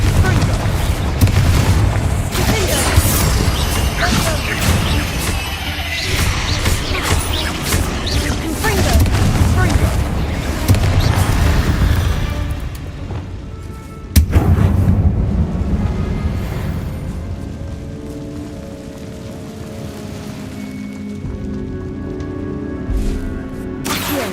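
Confringo fire spells blast in Hogwarts Legacy, a run of heavy booms and bursts with a rumbling tail, loud and close, under bits of character dialogue, with one sharp hit near the middle and quieter rumble after it.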